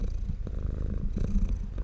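Close-up cat purr rumbling steadily right into a microphone, low and continuous with rhythmic pulsing breaths throughout the short stretch.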